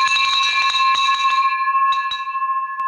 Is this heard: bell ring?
yes